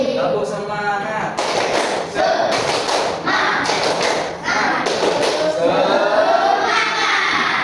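A classroom of students doing a rhythmic 'tepuk semangat' cheer clap during a lesson: bursts of patterned group clapping and thumps in several rounds, with voices chanting along throughout.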